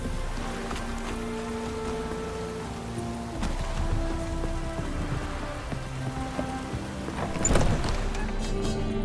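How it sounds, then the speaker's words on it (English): Steady rain falls in The Witcher 3: Wild Hunt, a continuous soft patter on surfaces with scattered drips, a faint tonal hum underneath and one sharper splash near the end. "No use doing any work in this rain."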